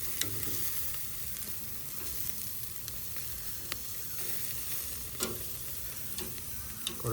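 Pieces of pork fry in a pan with a continuous crackling sizzle, punctuated by occasional sharp pops and ticks, steady and close throughout with no talking.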